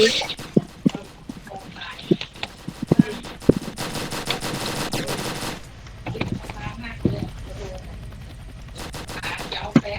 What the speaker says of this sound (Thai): มีการนอนยิงด้วยครับ